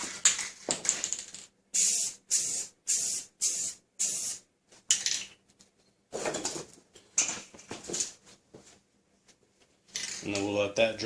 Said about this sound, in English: I'm just going to spray it with like a flat black